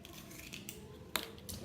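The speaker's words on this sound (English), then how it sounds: "You can use that to neatly tear the foil off." Foil being torn off the cork of a cava bottle: a few faint, brief crinkling and ripping bursts in a quiet room, the sharpest one roughly two-thirds of the way through.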